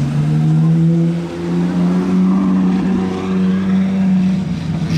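Ferrari 812 GTS with Novitec wheels, exhaust and small carbon spoiler, out in Monaco, gives a loud, steady deep V12 drone that swells slightly and holds near throughout, with no talk.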